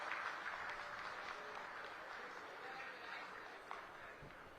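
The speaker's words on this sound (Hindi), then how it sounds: "जोरदार तालियां बजाकर उनका स्वागत करें।" An audience at a hospital inauguration event claps to welcome guests, producing a steady, moderately loud wash of applause heard from a distance with little variation.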